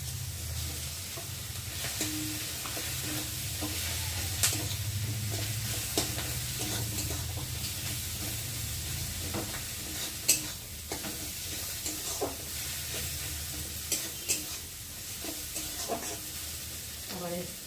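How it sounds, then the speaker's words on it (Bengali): Soaked eggs cooked with melted tomato are stirred in a pan for lentil tarka, giving a soft continuous sizzle broken by repeated spatula scrapes and taps, with a low hum underneath; fairly quiet, no voices. "এখন এই যে ভিজে রাখা কষানো ডিমগুলোকে দিয়ে ভালো করে একটু কষিয়ে নেব"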